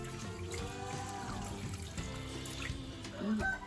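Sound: water spraying soil off a taro plant tuber

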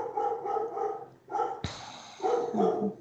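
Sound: dog barking

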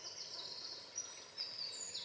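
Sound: chaffinches singing in spring forest

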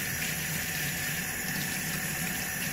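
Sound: rinsing knives under running water

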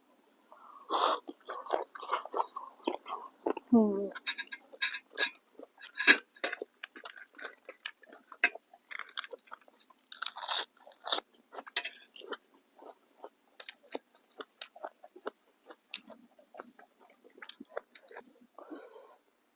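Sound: crunchy chewing of octopus

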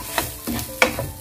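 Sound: stirring spices into prawn polao rice

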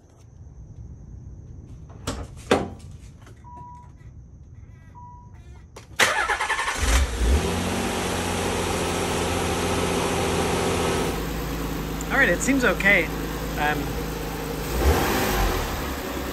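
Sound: Nissan 300ZX engine starting and idling after intake plenum install

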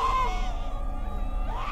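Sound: acted screaming in the video game Visage

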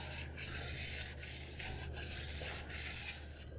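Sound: sanding by hand with fine sandpaper

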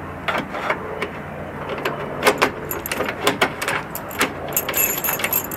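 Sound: key being handled in a lock

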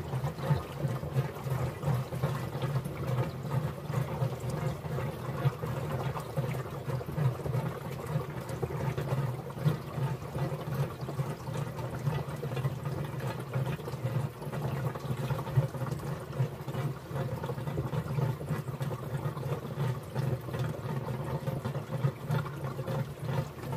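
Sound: water pouring into a tank

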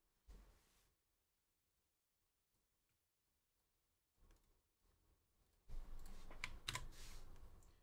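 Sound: typing on a computer keyboard

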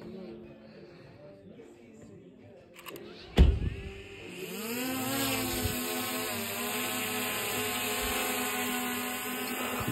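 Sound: camera drone taking off and flying

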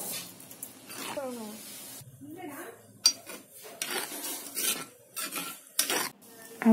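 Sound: adding flattened rice (aval) to cooked lentils in pot

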